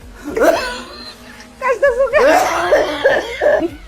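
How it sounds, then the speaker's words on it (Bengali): An older man coughs close by, several harsh coughs in bursts with raspy, strained breaths between them. "আর আব্বা তো কাশতেছে কেন?"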